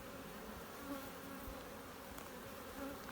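Honeybees buzz steadily around their hives under hot sun, a dense continuous hum with no voices.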